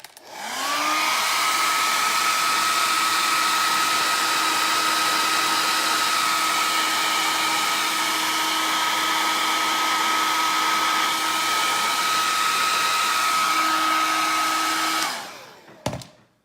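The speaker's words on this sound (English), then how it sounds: "I'm not used to a hairdryer." A hair dryer blows hot air steadily at close range onto WoodUBend moulding for about fifteen seconds, a constant whooshing roar with a high whine, then clicks off.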